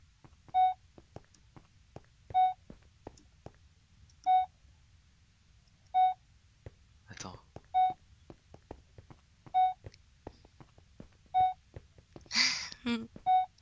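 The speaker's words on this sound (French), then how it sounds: "T'entends le bip bip, non?" Motion tracker in a Minecraft Alien Isolation mod gives out a steady run of about eight clear, evenly spaced electronic beeps. Brief soft clicks and a short rustling burst near the end sit between them.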